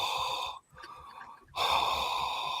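A voice imitating heavy mouth breathing: two long, loud, breathy exhales with a brief quieter gap between them, close and alone without words.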